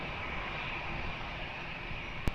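Jet airliner rolling for takeoff at Lisbon Airport, a steady broad engine roar sustained throughout, loud and continuous, with a brief sharp knock near the end.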